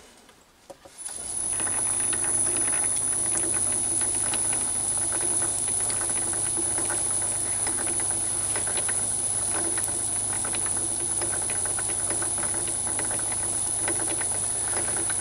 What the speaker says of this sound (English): and now I can start the lathe.